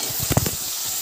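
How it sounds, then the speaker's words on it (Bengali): Warm water hits rice frying in a hot pan, throwing up a sharp, loud burst of hissing sizzle that settles into a steady steamy hiss. "ভাতে যেহেতু হালকা উষ্ণ গরম জল দিলাম একটু"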